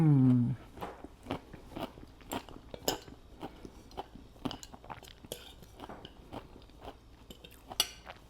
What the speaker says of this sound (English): It has the crunch, obviously, from all of the broccoli